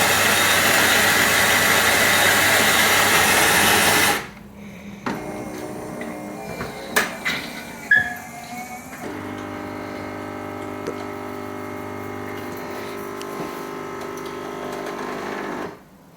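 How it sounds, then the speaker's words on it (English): A Melitta Latticia OT 600 series coffee machine brews espresso on its minimum setting for a small cup: a loud, steady pump whir runs about four seconds, then soft clicks, then a quieter, even mechanical hum continues to the end. "we'll just press the cappuccino button, the espresso button"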